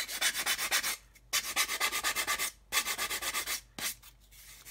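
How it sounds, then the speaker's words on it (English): Rapid rhythmic scratchy strokes of sandpaper rubbing back and forth across a 1/72 plastic B-52 model fuselage in quick bursts, with short pauses between runs, close and clear. "So I'm just going to do some sanding across the top of there."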